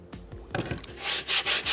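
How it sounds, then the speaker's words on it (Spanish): Sandpaper rubbed by hand over a waxed wooden piece, a few light strokes at first, then three louder, rhythmic scratchy passes close up, with no talking. "Le voy a pasar un poquito de lija, porque aún me va a hacer más claros oscuros"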